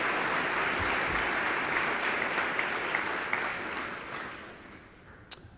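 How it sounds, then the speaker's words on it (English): An audience at a school Veterans Day ceremony applauds the musicians after the national anthem, a full broad round of clapping that gradually thins and fades, with a few isolated claps near the end. "how about a big round of applause for our musicians here this morning?"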